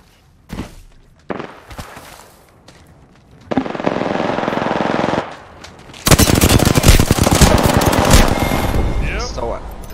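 Bursts of automatic machine gun fire in a video game match, starting as scattered short volleys and building into sustained, loud, dense firing over the last few seconds, with voices talking over the shooting.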